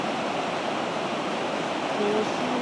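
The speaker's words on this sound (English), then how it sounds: "I really, really like the waterfall too" A waterfall pours near the village at the Collier Museum grounds, a constant, dense rushing roar, fairly close and loud, unbroken for the whole span with no clear voices.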